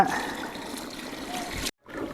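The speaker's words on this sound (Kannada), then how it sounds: "ಈ ನೀರು ಹಾಕೋಣ." Water is poured into a pot of chicken pulao as a continuous splashing trickle, close and moderately loud, with a brief dropout near the end before it resumes.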